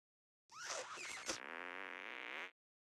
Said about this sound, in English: You call that farting on someone?